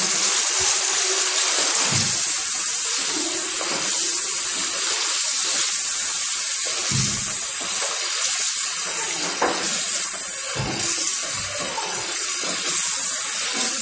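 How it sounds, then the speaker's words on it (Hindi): Chicken frying in a pan with crushed red chili, salt and sugar, a steady loud sizzle and hiss throughout with occasional stirring scrapes and knocks. "दो मिनट इसको फ्राई करेंगे।"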